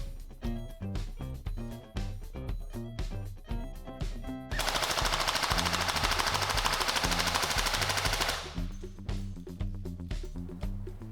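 Specna Arms SA249 polymer airsoft LMG on an 11.1 V LiPo, firing 0.2 g BBs: rapid single shots in a steady rhythm, then a sustained full-auto burst of about four seconds, then more single shots, close and loud.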